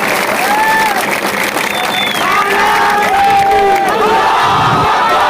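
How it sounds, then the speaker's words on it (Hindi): A large crowd at a political rally in Aurangabad roars with cheering, whoops and shouting over steady applause, loud and continuous throughout, with voices raised in the mass. "तो एक जोरदार तालियां अपने खुद के लिए बजा दीजिएगा।"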